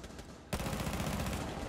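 In a Rainbow Six Siege match, a loud burst of rapid automatic gunfire breaks in after a quiet half second and keeps rattling close by until the end, with no voices over it.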